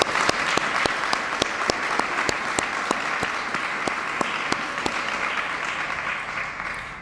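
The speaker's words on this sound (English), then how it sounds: "Let's give her a round of applause." Steady, sustained applause from a crowd at a community meeting, dense clapping with some sharper individual claps standing out throughout.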